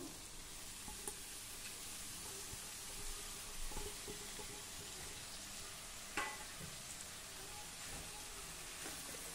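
Chopped spring onion greens with lentils and peanuts sizzle in hot oil over medium heat, a faint, steady frying hiss with occasional scrapes and stirring knocks, close by.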